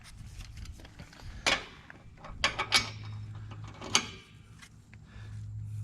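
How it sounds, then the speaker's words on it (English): A torque wrench with a 3/4 inch socket works on the bolt of a trailer equalizer hitch, making a few sharp, close metallic clicks and ratchet knocks scattered across quiet moments. "So this is my little handy torque wrench."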